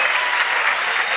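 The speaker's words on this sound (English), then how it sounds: "And a big round of applause for them." An audience at a polo hall of fame induction ceremony claps loudly in a dense, sustained burst of applause that fills the room for about a second.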